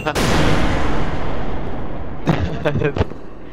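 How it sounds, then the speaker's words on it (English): In SCP: Secret Laboratory, a grenade trap goes off with a loud, close blast that rolls into a long rumbling decay, followed by a few sharp impact pops and thuds, with no talking over it. "Oh, grenade trap."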